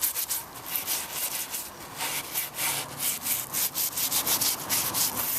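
A scouring ball scrubs 1930s varnish off wood in quick, rhythmic back-and-forth rubbing strokes, a close, gritty scratching that continues without pause.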